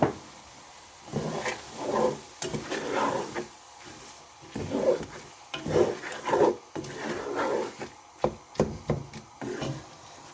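A spoon rubbing and scraping around a pan as sugar is mixed into a beetroot and egg halva, in uneven strokes of thick, gritty stirring with no talk.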